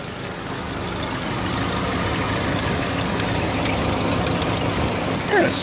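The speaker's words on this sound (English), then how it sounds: "I think it has an exhaust leak." A car engine idles with a suspected exhaust leak, a steady low rumble with an uneven ticking texture holding at a constant level, with a short higher squeak near the end.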